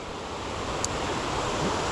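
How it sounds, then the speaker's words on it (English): Comer Creek Falls on the Appalachian Trail gives a steady broadband rush of falling water, constant and moderately loud with no voices over it. "Coming up on Comer Creek Falls."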